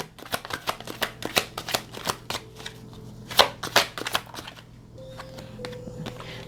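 A deck of cards is riffled and bridged close up, a rapid run of crisp flicks followed by softer snaps and a settling slide, with no one talking.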